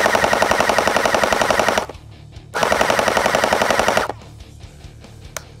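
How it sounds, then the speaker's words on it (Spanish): A QBZ-95 style Bing Feng gel blaster rifle running a 7.4 V battery fires two long full-auto bursts of rapid, buzzing mechanical clatter, loud and close, separated by a brief pause. "vamos a escuchar cómo funciona su disparo"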